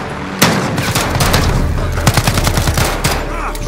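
Modern Warfare gunfire, loud close-range automatic bursts and single shots cracking in quick succession, one heavy report near the start, with brief speech mixed in.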